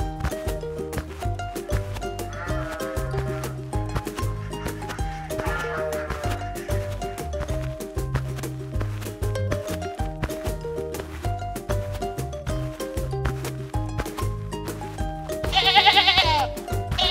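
Sheep bleat on a toy animal-farm diorama with a gorilla tending the flock. Several short bleats rise over continuous, busy background music, with the loudest, most prominent cry near the end.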